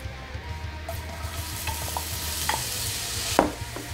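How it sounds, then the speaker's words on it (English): Onions cooking in melted butter for a cheese and onion dip, a low, steady sizzle over a background hum, with a few soft clinks and a brief sharper tap near the end. "First thing you want to do is get our onions into some melted butter."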